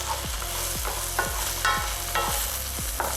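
Whole shiitake mushrooms fry in a pan with a steady close sizzle, broken by several rhythmic scraping stirs spaced about half a second apart, with no voices.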